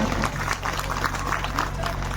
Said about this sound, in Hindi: एक बार उनके लिए जोरदार सुंदर तालियां बजा दीजिए आप लोग।